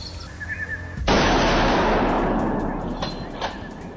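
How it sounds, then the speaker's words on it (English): A rifle fires a single sharp, loud gunshot at a wild boar in brush, with a long rolling echo after it and a couple of fainter cracks later. "the hunter takes precise aim and pulls the trigger"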